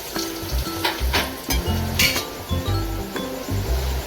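Onions fry in hot oil in a home kitchen pan, a steady loud sizzle broken by repeated clinks and scrapes of a utensil stirring against the pan.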